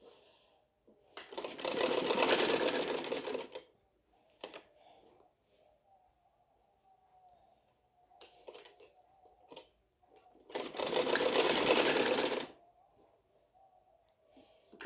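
Sewing machine running two separate loud bursts of double stitching along a kurti frill, with quiet clicks and fabric handling in the gaps between runs.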